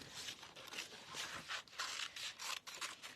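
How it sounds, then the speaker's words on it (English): Scissors snipping through patterned designer series paper for a card, a quick run of short crisp cuts and rustling paper strokes, close and fairly quiet with no voices. "So let's just cut those out."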